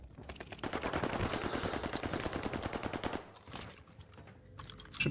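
Rapid automatic gunfire in Call of Duty Warzone, fired from a Cooper Carbine in a duos match, with a dense, close burst of shots lasting several seconds, then scattered single reports and clicks.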